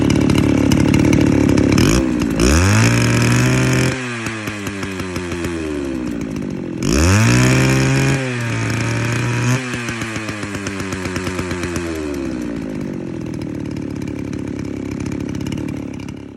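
A Dolmar 152 chainsaw, newly repaired after an ignition timing fault, runs loud and close, revving up hard in two long sweeps with the engine note climbing and dropping, then settling into a rough, steady idle.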